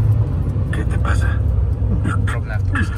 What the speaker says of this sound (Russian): Вот на таком автобусе.